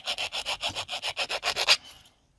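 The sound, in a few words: sanding the edges of a resin piece with liner paint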